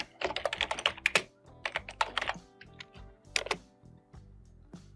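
Someone types on a computer keyboard in quick clustered bursts of crisp key clicks, with brief pauses between groups, close and clear in a quiet room.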